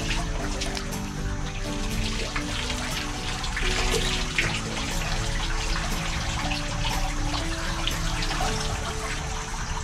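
Scrubbing inside a catamaran's water tank makes a continuous wet swishing and trickling, close and steady with small bumps, under faint background music.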